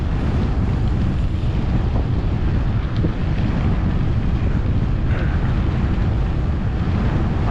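Strong wind buffets the microphone of a cyclist riding downhill into a headwind on a road race across Texas, a loud, constant, rumbling roar with no talking.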